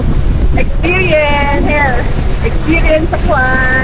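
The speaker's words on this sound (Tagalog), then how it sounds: "At saka malakas ang hangin guys." Strong wind buffets the microphone on a Boracay beach with boats nearby, making a loud, constant roar under a person speaking close by.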